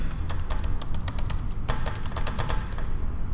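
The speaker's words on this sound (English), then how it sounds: "Then I'm going to type something here." Rapid key clicks on a Mac computer keyboard come in quick irregular bursts, close and crisp, with a brief pause midway before the typing resumes and then stops.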